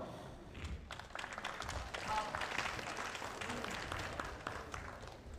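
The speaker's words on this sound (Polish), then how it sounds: "Drodzy Państwo, ogromne brawa." An audience at an indoor grappling tournament in a sports hall applauds, a moderate spread of clapping that swells mid-way and tapers slightly toward the end.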